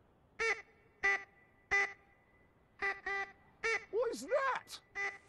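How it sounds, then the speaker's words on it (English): A duck quacks in The Grand Tour Game, Colombia Special: about ten short nasal quacks, spaced at first and then in quicker pairs, with a wavering, drawn-out call near the end, loud against a quiet background. "It's a duck!"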